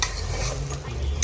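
Khichuri with coconut being stirred and fried in a pan, with steady close sizzling and scraping of a utensil against the pan throughout, no talking.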